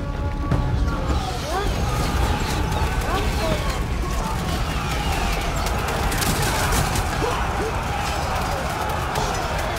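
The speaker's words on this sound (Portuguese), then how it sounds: "Os arqueiros estão atirando" A dense, steady clatter of battle from Total War Saga: Troy, with archers loosing volleys of arrows amid a constant roar of combat noise across the whole stretch, and voices talking over it.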